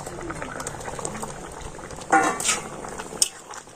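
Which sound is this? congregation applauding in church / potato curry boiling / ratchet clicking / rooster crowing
potato curry boiling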